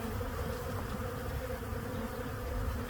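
Honey bees swarm around an open beehive, a dense, steady buzzing drone that fills the air up close without a break.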